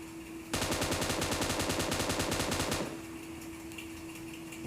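Rapid automatic gunfire in a battle royale video game, a dense burst of shots lasting about two seconds, loud and close, then cutting off to a quieter background hum.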